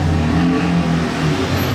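A car fitted with a Capristo exhaust revs in Monaco, a loud, close, rumbling engine note that holds fairly steady with slight pitch wavers through the short burst.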